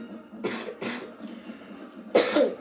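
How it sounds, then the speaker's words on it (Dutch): A person coughs three times, two quick close coughs followed by a pause and a third harsher cough. "waarom hoest jij zoveel?"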